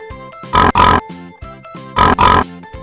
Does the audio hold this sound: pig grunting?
yes